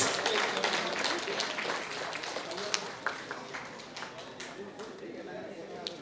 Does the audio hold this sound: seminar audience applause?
yes